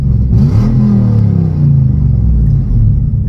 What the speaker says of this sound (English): it then made me be able to hear the V8